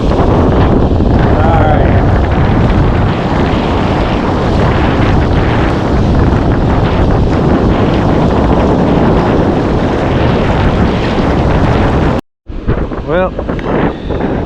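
Strong wind blasts across the microphone at a beach during shark fishing in New Smyrna Beach, Florida, a loud, continuous roaring rumble that briefly cuts out near the end before someone speaks a few words.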